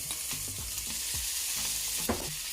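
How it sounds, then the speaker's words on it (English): Ginger paste and blended jerk seasoning frying in a pan for a Jamaican fish loaf, a steady close sizzle with soft stirring scrapes and a few light clinks, no one talking. "we're gonna let this fry up a little bit"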